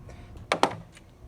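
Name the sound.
plastic tab clicking into place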